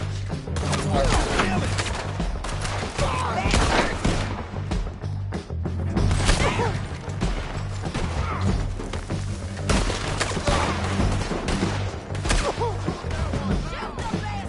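Sustained gunfire in Red Dead Redemption 2, dense overlapping shots and booms running continuously and loudly throughout, with a steady low rumble beneath.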